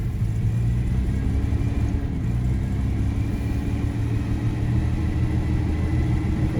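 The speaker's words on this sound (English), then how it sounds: "But the engine sounds very smooth." Jaguar XJC engine running at a steady high idle around 1500 rpm, a smooth continuous low rumble heard up close without any talk.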